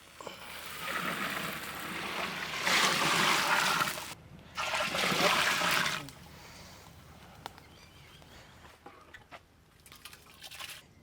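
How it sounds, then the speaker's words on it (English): Water poured into a pot of chicken kuska rice, in two splashing, gurgling bursts of a second or so each, followed by a quieter simmer and a few faint clinks. "Add enough water."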